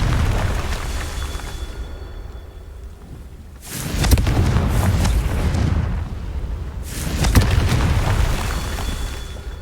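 Two loud, deep blasts from the Confringo fire spell in Hogwarts Legacy, a few seconds apart, each a booming burst that rumbles on, with a quieter ambient stretch before them.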